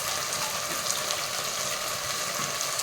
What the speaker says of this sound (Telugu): వాటర్ పోసుకుంటున్నాం.